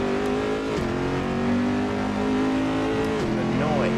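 A Corvette mod in the Assetto Corsa racing game roars with a loud, steady engine drone that rises and dips with gear changes, filling the whole stretch while a voice talks faintly underneath.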